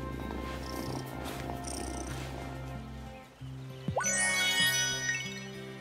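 A cat purrs steadily in the farming video game Wylde Flowers, a low continuous rumble over soft game music, joined near the end by brighter chiming tones.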